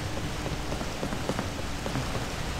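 Rain weather in the GTA V video game on the Del Perro Pier beach: a dense, steady hiss of rain pattering on surfaces, loud and continuous, with no voices.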